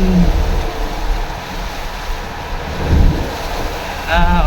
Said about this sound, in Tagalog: Ulan, may hangin, ang hangin.